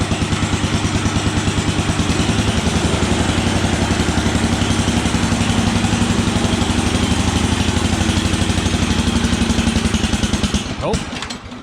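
An engine on a long-neglected vehicle idles with a fast, even, clattering pulse, close and loud for about ten seconds before it stumbles and dies away.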